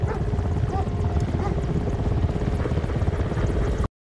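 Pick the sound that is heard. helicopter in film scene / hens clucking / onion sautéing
helicopter in film scene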